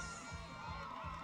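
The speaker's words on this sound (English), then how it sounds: "His fan club is right here, cheering him loudly." A fan club of spectators cheering loudly for a runner at a high school athletics championship, a distant, faint crowd roar with shouts and whoops blending into a continuous wash.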